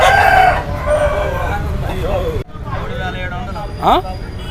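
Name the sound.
Kakinemmali rooster crowing at a country chicken market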